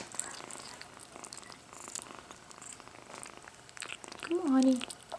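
A cat purrs softly and steadily at close range while eating, with faint wet chewing and small movement noises mixed in; a brief louder sound near the end.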